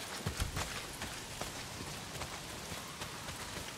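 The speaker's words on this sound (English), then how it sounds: "A lot of it's pissing down rain." Heavy rain pours in the video game Days Gone, a dense, even hiss with scattered patters, fairly faint and unbroken throughout.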